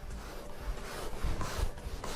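Steady scratchy rubbing of a dust-mite cleaning tool dragged back and forth over fabric dusted with baby powder, close and continuous with a rasping texture.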